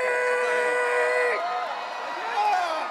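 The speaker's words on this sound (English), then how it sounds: "one more huge cheer for" A large BlizzCon arena crowd at the HGC 2018 Grand Finals roars and cheers for the winning team, a loud sustained mass of voices with rising whoops and tonal music or howling held over it.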